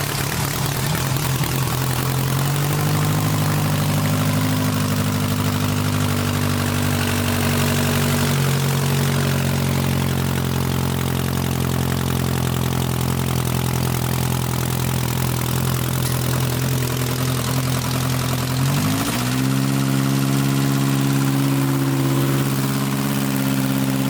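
Quad-turbo engine idling steadily on its first start in January, a loud continuous droning hum with strong low harmonics that dips briefly and then settles back around the twenty-second mark, with no talking.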